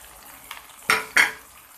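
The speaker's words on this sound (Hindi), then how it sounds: "अब मैं ऐड करूँगी ये मूली।" Radish dropped into a pan of golden fried garlic, two sharp clattering scrapes of utensil on pan over a soft sizzle, close and fairly loud.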